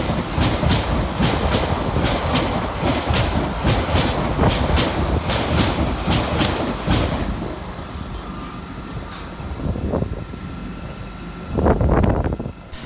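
An LNER Class 800 train rumbles past in Durham with rhythmic clickety-clack of wheels over rail joints, then recedes into a quieter hum with a couple of fainter swells.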